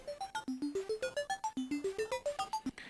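A modular synthesizer steps through a repeating five-note sequence of bright plucky sawtooth tones, each note short and evenly clocked, the pattern cycling several times alone and up close.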